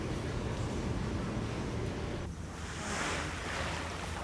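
Sea waves break and wash along a seashore in a continuous rushing roar, with wind noise on the microphone and a brief dip before the surf swells again.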